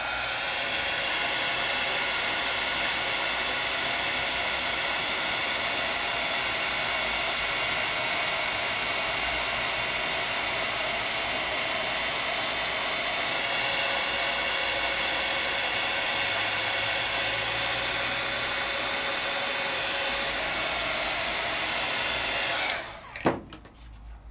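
A craft heat tool roars with a loud, steady blowing hiss while melting embossing powder, running close and unbroken for over twenty seconds before it is abruptly switched off at the end, with no talking.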